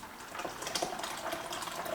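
Hot water poured into a container to make homemade natural laundry detergent, 1.5 litres added in a steady, close splashing stream with no talk.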